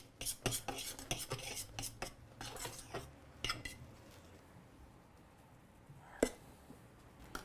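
Honeycomb toffee being mixed right after bicarb goes in, with a run of quick scraping and clinking utensil strokes against the pot that thin out and leave a quiet stretch broken by one sharp clink near the end.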